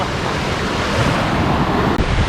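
Waterfall water rushing continuously nearby, a loud, broad steady roar with a windy, surf-like texture and no voices.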